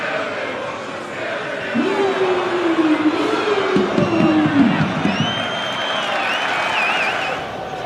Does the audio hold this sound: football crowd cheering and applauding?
yes